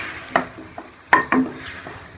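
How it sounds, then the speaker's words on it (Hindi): Beef with yogurt and spices fries in a pan with a soft sizzle under a few sharp spoon scrapes and taps against the metal, close and without talk. "और मैं इसके अंदर ये दही डाल दूँगी। इसको अच्छी तरह से भून लूँगी"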